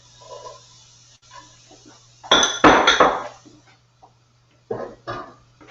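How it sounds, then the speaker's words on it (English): Onions and garlic are sautéed without oil in a pan for a turnip stew, with sharp metallic clinks and clattering bursts of a utensil against the pan separated by quiet gaps and a low steady hum. "So as usual, I'm going to saute onions and garlic."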